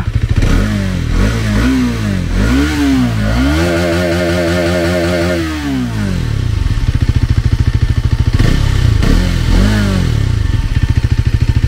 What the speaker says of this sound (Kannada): ಇದರ ಎಕ್ಸಾಸ್ಟ್ ನೋಟ್ ಯಾವ ರೀತಿ ಇದೆ ಚೆಕ್ಔಟ್ ಮಾಡೋಣ ಬನ್ನಿ.